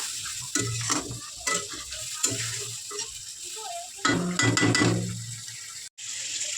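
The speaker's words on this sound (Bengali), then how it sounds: "মশলাটা ভালো করে কষাবো" A spice paste sautéing for chicken in a pan, stirred in bursts of scraping and bubbling over a steady sizzle, with a brief drop to near silence toward the end.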